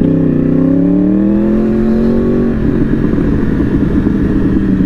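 Yamaha R1 superbike engine revving loudly and close, pitch rising under steady throttle then settling into a rough, fluttering idle-like rumble, with no voices.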